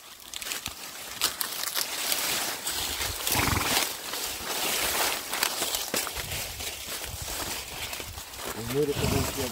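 Horse sounds with hoof clops and snorting amid outdoor bustle at a cornfield, ending in a short whinny; people can be heard nearby.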